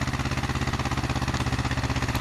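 A tractor engine from Farming Simulator 19 idles steadily up close, a low, even pulsing throb that holds unchanged without any voices.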